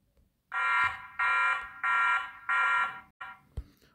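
A TP-Link Tapo H200 smart hub sounds its siren alarm: four loud, even electronic beeping pulses with short gaps, then a shorter fifth burst and a click, close and alone.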